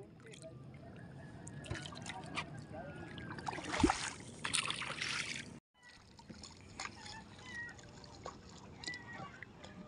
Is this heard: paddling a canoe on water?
yes